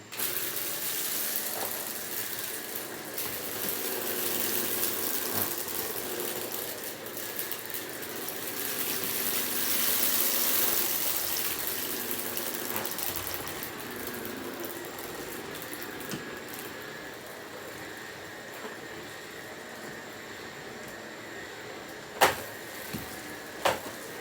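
A steady, droning Oreck DTX 1300 vacuum whine with a hissing rush, power brush running on carpet, swelling and easing as it moves, then a couple of sharp knocks near the end.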